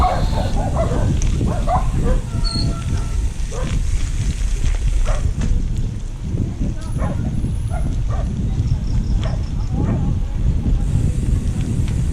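Dogs bark and yip repeatedly, some close and some farther off, with bursts scattered across a steady rumbling outdoor background.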